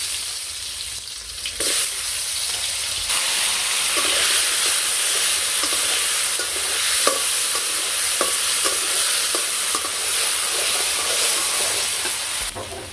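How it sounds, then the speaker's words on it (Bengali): Potatoes frying in oil with cumin and radhuni for a pointed gourd curry at a village kitchen: a loud, steady sizzle throughout, with occasional spatula scrapes and knocks as the pieces are stirred. "তো আলু ভাজা হয়ে গেছে"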